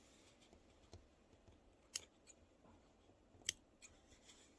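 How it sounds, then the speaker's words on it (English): Scissors snip loose threads on a quilted star heart table runner, a few quiet, separate sharp cuts spaced irregularly against near silence. "And then you just want to trim the last of your threads."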